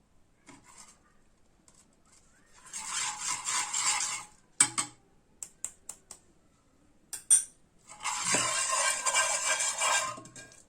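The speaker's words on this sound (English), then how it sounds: "Let us mix this well." A spoon stirring saffron-colored sugar syrup in a pan, two sustained bursts of scraping and swirling against the metal, with a few sharp clinks between them.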